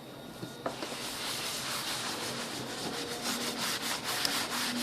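Someone scrubs a kitchen cabinet door with a multi-use cleaner to remove dust, producing a continuous soft rubbing hiss with rhythmic back-and-forth strokes, close and fairly quiet.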